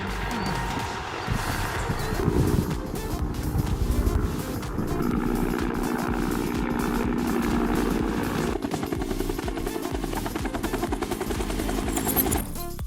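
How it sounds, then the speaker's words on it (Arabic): A single-engine, twin-rotor agricultural helicopter sprays crops, its rotors giving a rapid rhythmic chop over a loud, continuous engine drone that holds steady and rises slightly near the end. "موتور واحد ومروحتين، واتفرج على الاحترافية المطلقة."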